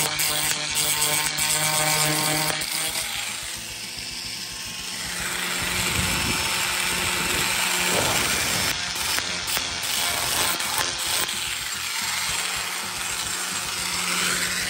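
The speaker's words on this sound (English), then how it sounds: "now I've ground down what I believe are all of the air pockets." A small handheld grinder works down air pockets in a fiberglass boat deck, a steady loud whirring grind that rises and falls as the disc presses into the surface, with no talking.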